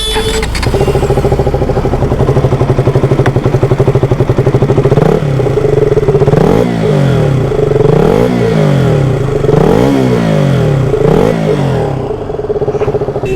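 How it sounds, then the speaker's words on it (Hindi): A KTM RC 200 BS4 motorcycle idles loud and close, then its engine is blipped in repeated rising and falling revs, with a crackling, popping exhaust note and some mechanical clatter. "तो ये जो एग्जॉस्ट नोट है काफ़ी लोगों को पसंद थी, काफ़ी लाउड लगती थी।"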